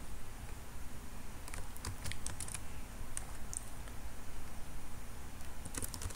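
Quiet clicking on a computer keyboard while writing code, with scattered bursts of light keystrokes over a faint background hum, no talking.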